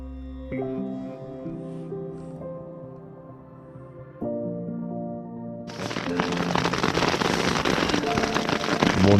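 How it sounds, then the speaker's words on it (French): Large hailstones clatter down in a dense, rattling patter that begins abruptly and builds louder, following a stretch of quieter droning background sound, at about 4200 m altitude. "Il y a de la grêle là, ça. Ouais, là il tombe. Il y a des énormes grêlons là."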